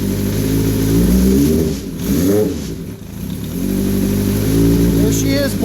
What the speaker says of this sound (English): let's see if she'll start without the choke.